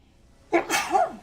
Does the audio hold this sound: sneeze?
yes